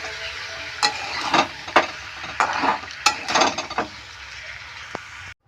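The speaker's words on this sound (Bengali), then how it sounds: "তারপর দিয়ে দিলাম আমি পোস্ত বাটা। এটা দিয়ে ভালো করে আমি নেড়ে নেব।" Onion paste and poppy seed paste are stirred in a pan, giving a close series of scraping, pasty strokes over a soft sizzle before falling to near silence at the end.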